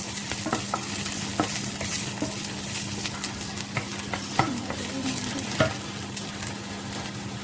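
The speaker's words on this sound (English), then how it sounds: "Fry the onions." Onions fry in a pan for seafood linguine, a steady crackling sizzle broken by repeated spatula scrapes and taps against the pan, close and alone with no speech.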